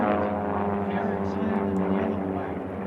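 Biplane-class race aircraft fly past at an air race, a continuous loud droning propeller engine roar with a steady throb that holds for the whole moment, with commentary over it.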